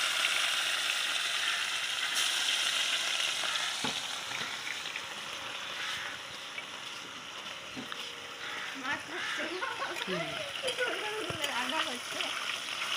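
Fish frying in oil in a kadai over a clay stove, with a steady close sizzle and occasional stirring clatter, while a voice talks over it near the end.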